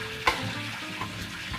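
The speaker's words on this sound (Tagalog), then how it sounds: "tinatapos na lang po natin itong prito, yung ating embutido" Embutido and pork fry in a pan with a continuous close sizzle, broken by a sharp utensil clack early on and a few lighter stirring knocks.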